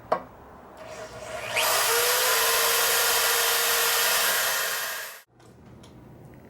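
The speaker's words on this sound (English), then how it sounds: "I got an oversized drill bit here. I'm just gonna ream out a couple of holes." Power drill with an oversized bit reaming holes in Ford F150 parts, spinning up to a loud, steady whine that holds for about three and a half seconds, then cuts off abruptly.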